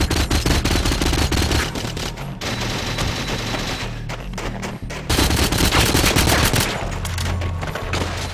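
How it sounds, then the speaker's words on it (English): Sustained rapid automatic fire from a silenced Vargan submachine gun in a multiplayer shooter, loud and dense bursts nearly filling the stretch with brief pauses between strings. "The gun that I am using is the Vargan. It's silenced, and it's a submachine gun"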